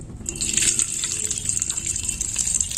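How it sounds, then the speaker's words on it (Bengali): Ghee is poured into hot oil in a pan, bringing a sudden close, bright sizzling hiss that swells quickly and carries on steadily for a few seconds. "তেলের মধ্যে আমি ঘি দিয়ে দেবো"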